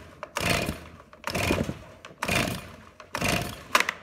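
Four rapid pulls on a chainsaw's starter cord, each a rasping whir about a second long with short pauses between. The engine never catches, and a brief sharp click sounds near the end.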